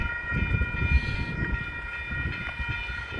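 An MBTA train rumbles steadily nearby westbound at a Commonwealth Ave crossing in Concord, Massachusetts, with low mechanical noise and faint sustained tonal hum, no voices.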